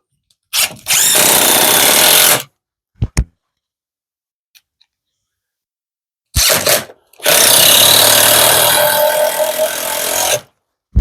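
A power drill drives screws into the wooden boards of a wavy wooden American flag, with a short run, two brief blips, then two longer loud runs separated by silence, close by.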